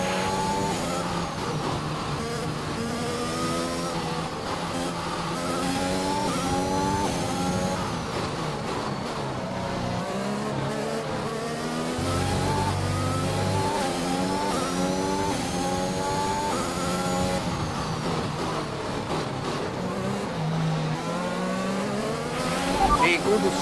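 F1 2021 race car engines wail at high revs while overtaking, with rising and falling engine pitch sweeping past over a steady drone and occasional voices.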